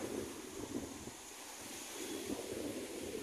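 Ocean waves breaking at Seixas beach near wooden decks over rocks, a low rolling surf that swells and eases, mixed with wind noise on the microphone, no talking.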